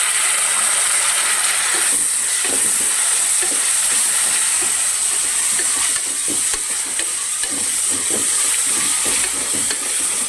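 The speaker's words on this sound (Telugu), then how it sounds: "కొంచెము ఫ్రై అయిన తర్వాత టమోటా ముక్కలు వేస్తున్నాను." Tomato pieces fry in hot oil in a pan, giving a steady, bright sizzle. Occasional stirring scrapes and clinks sound close by, with no talking.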